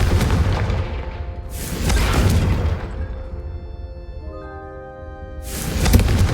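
A Confringo explosive spell is cast in the Hogwarts Legacy video game, producing loud booming blasts with bright bursts around 1.5 s and again near 5.5 s, separated by ringing, shimmering magical tones.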